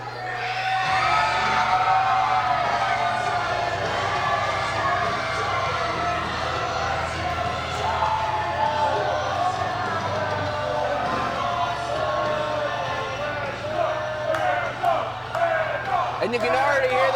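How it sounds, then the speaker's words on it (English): A wrestling crowd at a Super Shogun Wrestling show fills a hall with continuous loud chanting and cheering for Mad Dog, with shouts and whoops rising throughout and no break in the noise. "you can already hear the crowd chanting for Mad Dog"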